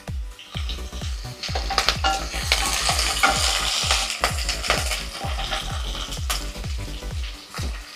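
Green chillies fry in hot oil in a pan while a utensil stirs them. The sizzle is steady and the metal scrapes and knocks come in a quick, regular rhythm. It is close and fairly loud, with no talk.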